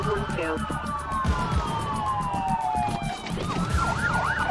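Several police car sirens wail and yelp at night during a traffic stop in the United States, rising and falling tones overlapping over road noise, with a rapid yelp pattern near the end.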